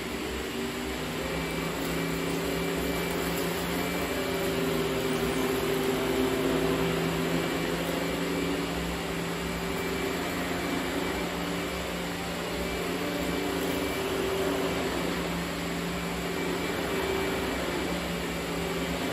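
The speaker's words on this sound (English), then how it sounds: "So that vacuum definitely cleans well and cleans" A Lindhaus Healthcare Pro Ecoforce vacuum cleaner runs continuously as it picks up cereal, a loud steady motor drone with a high whine, close and unbroken throughout, without talking.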